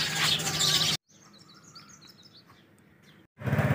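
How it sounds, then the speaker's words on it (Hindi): Many small birds chirp and twitter together in a tree on a cool morning, a busy, high chorus heard at moderate distance between louder bursts of other noise. "इस दरख्त के अंदर चिड़ियों ने शोर डाला हुआ है सुबह सुबह"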